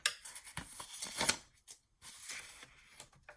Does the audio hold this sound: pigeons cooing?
no